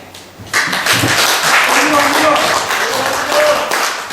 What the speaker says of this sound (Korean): 억울한 박수 한번 치세요